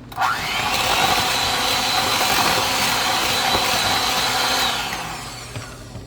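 Electric mixer beating white chocolate cake batter; a loud, steady motor whine starts abruptly, holds evenly for about four seconds, then winds down, close by with no talking.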